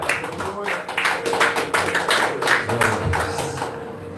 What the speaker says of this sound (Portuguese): Vamos aplaudir a Jesus pela vida do presbítero Adilson.